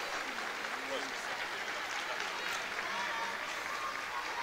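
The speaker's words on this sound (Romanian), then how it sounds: "În aplauze părăsește terenul de joc Carolina Țabur" Steady applause from a crowd at a women's football match between Moldova and Latvia as a player leaves the pitch, sustained and even throughout, with a faint voice briefly audible underneath.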